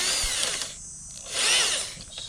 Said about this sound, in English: This is my hammer drill. I've got it set on the hammer setting